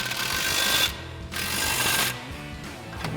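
A ratchet tightens elevator bolts and flange nuts at the back of the center support on a 2011-2024 Ford F-250 during a SuperLift dual steering stabilizer install, with close, steady ratcheting in two bursts and a short pause between them.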